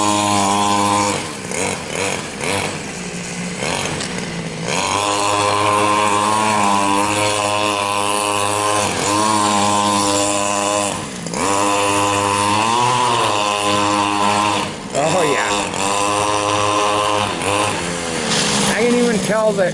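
A Ford coupe engine runs under load on smaller-diameter wheels, its harmonic drone rising and falling steadily and close by. Loud and continuous, with a few brief dips in revs.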